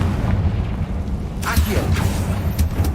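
A Confringo blast spell goes off in Hogwarts Legacy as a low booming burst with a crackling tail, followed by a few smaller pops over a steady rumbling game background.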